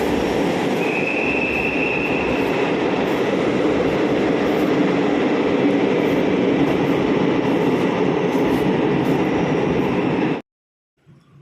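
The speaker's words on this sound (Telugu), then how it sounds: "మేము ట్రైన్ కోసం అయితే వెయిట్ చేస్తాం" A train rumbles past loudly and steadily with a faint wheel squeal early on, then the sound cuts off abruptly near the end.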